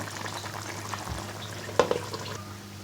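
Fish curry with flat beans and potatoes simmers quietly under a lid, a steady low bubbling hiss with a few soft clicks and taps near the end.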